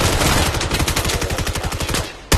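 Loud rapid automatic gunfire from a virtual reality shooter game rattles in a continuous burst, then briefly drops out before one more shot.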